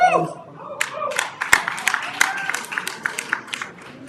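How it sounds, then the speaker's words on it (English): Scattered hand clapping in a boxing post-fight press conference room, a run of sharp irregular claps from a small group, moderately close, fading into sparse individual claps while voices murmur underneath. "No clapping in the press room."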